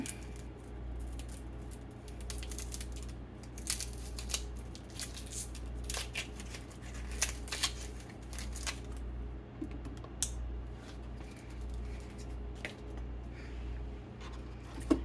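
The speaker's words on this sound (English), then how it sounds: "I'm just gonna slice a piece of this onion off," A knife slices through an onion and its papery skin is peeled away, heard as quiet, close, irregular crisp cuts and crackles over a low steady hum.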